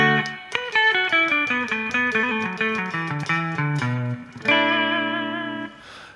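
Clean electric guitar on the bridge pickup, through an Ableton Live clean amp simulation, plays a quick run of picked notes, then a sustained chord rings out and fades, with no talking.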